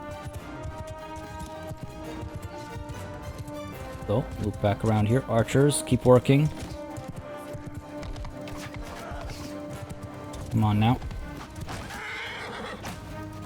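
Horse neighing and whinnying during a battle in Mount & Blade II: Bannerlord, with several whinnies in a burst and another later, over steady battle ambience while someone talks throughout.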